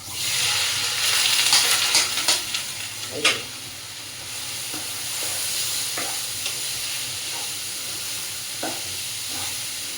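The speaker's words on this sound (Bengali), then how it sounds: "এটাকে সব সময় নাড়াইয়া থাকতে লাগে।" Sabudana khichdi with a chilli and peanut mix being stirred in a pan over low heat, with steady scraping and stirring strokes over a soft continuous sizzle, loudest early on then settling to a gentle hiss.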